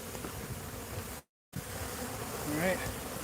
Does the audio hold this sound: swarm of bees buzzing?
yes